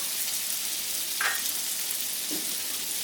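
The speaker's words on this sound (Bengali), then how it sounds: "সবজিগুলোকে ভেজে নেব দিয়ে দিচ্ছি এর মধ্যে কাঁচা লঙ্কা" Mixed vegetables and green chili frying in oil for a chirer polau breakfast, a steady close sizzle with a couple of brief stirring scrapes, no talking.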